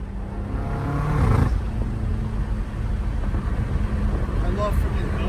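A straight-piped car engine roars loudly close by, swelling in a brief rev before settling into a steady rumbling exhaust drone.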